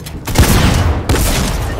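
A sniper rifle fires in the video game Fortnite, giving two sharp, loud booming shots about a second apart, each trailing off into a rumbling echo, with no talking.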